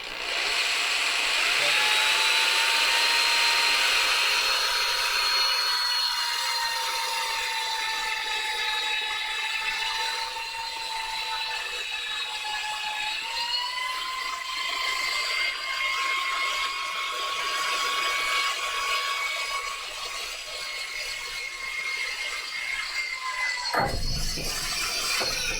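A small 1/8-inch bit drills a hole for a custom test bench, giving a steady, close motor whine that dips in pitch partway through and cuts off just before the end.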